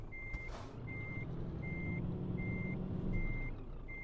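Truck reversing to park in Euro Truck Simulator, with a steady electronic reversing alarm beeping evenly about once a second over a continuous low diesel engine rumble. A brief air hiss comes near the start and there is no talk.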